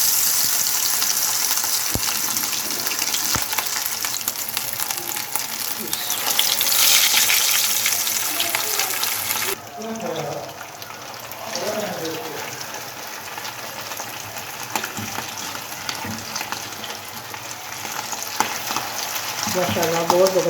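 Peshawari chapli kababs fry in a hot pan and are flipped to cook the other side, giving a loud, steady close sizzle that drops slightly midway and carries on with scraping and stirring noises.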